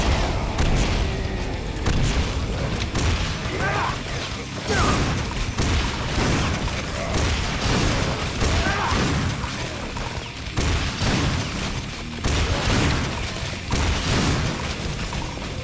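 Rocket explosions boom repeatedly in the shooter Painkiller, a dense barrage of loud blasts and crashing impacts with mechanical clatter between them, sustained for the whole stretch.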